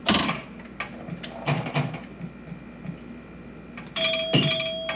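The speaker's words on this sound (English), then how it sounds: "This is a quiet table, except for the sound effects." Electronic sound effects from the Cine Star pinball table by Zaccaria, played as a video game, ring out as chiming tones and short clicks at moderate level, with a sustained two-tone chime near the end.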